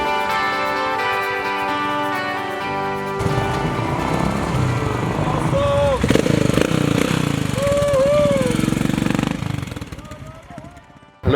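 Royal Enfield motorcycles ride together in a group of 31 bikes, a continuous close engine rumble and drone lasting throughout, with voices and tonal sounds over it before it fades at the end.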